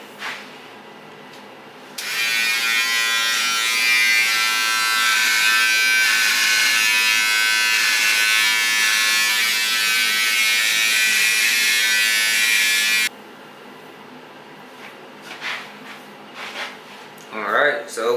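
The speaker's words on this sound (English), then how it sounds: "it was expected that my hair was gonna start falling out, so I knew I was gonna have to shave it" Electric clippers buzz steadily for about eleven seconds while shaving a person's head, loud and close, then cut off, followed by faint rustling.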